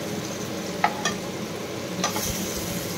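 Brinjal slices coated with garlic fry steadily in hot oil, a dense continuous sizzle with a few clicks of stirring or turning, close and fairly loud, no speech.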